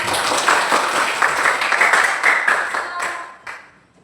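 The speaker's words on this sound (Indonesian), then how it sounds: "Oke, berikan tepuk tangan untuk Azra." Students in a biology classroom applaud a classmate with a dense burst of many hands clapping, steady and close, then quickly thinning and fading out.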